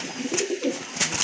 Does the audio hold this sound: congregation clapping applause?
no